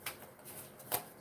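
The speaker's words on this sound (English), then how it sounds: "let me shuffle for that outcome card" A deck of tarot cards is shuffled in quiet close-up, soft papery riffles and flicks with a brief sharper snap near the end.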